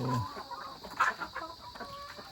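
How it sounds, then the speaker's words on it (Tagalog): Chickens cluck and squawk in short, irregular bursts while eating, fairly close, with a busy farmyard background and no talking. "dito yung mga manok yan. So, kain na sila."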